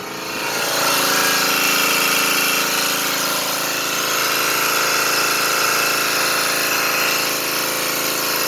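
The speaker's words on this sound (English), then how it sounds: "Here's the power steering pump hydro booster motor spinning" The 12-volt DC electric motor driving the hydro booster power steering pump on an electric 1-ton truck spins up and runs at a loud, steady whine with a dense, constant hum and no pauses.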